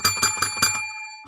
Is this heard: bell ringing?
yes